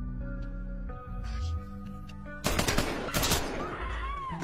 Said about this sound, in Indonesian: Beruntung Cats yang telah tiba di sana, dia pun segera menembak Shinjo dan rekan-rekannya.